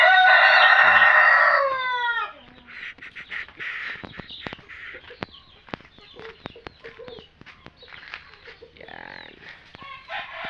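A rooster on a Bantayan Island chicken farm crows loudly and close at the start, followed by scattered clucks and fowl calls with brief talk in the background.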